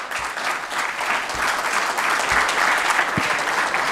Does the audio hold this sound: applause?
yes